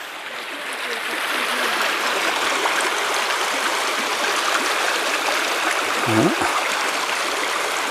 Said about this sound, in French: Et là, il y a de l'eau encore.